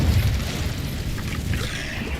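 The Incendio fire spell from Hogwarts Legacy bursts out as a short, loud, rumbling whoosh of flame that fills the whole moment.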